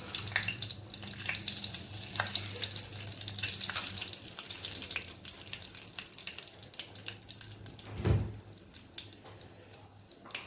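Mustard seeds and curry leaves fry in hot oil, a close, steady crackling sizzle with faint stirring and a single louder knock near the end.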